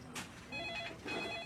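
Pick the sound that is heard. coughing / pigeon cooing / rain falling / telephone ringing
telephone ringing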